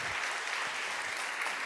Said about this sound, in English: Let's have a big round of applause for you, please.